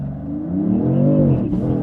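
A 2026 Dodge Charger Six Pack accelerates hard on a drag pass, its engine note climbing in pitch for about a second, then dipping sharply as if at a shift, loud and close.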